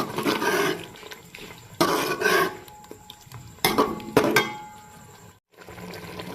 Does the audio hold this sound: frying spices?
yes